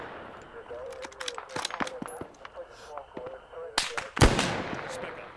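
Machine gun fire in the game ARMA 3 S.O.G. Prairie Fire, with repeated sharp bursts of shots close by and a heavier blast near the end, all over steady background noise.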